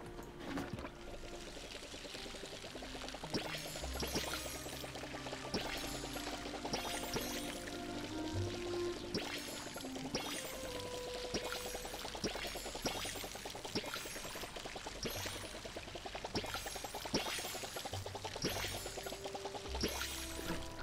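Crops of corn, rice and cotton being watered in the farming game Palia, a steady pouring, trickling splash of water running continuously at low level over soft background music.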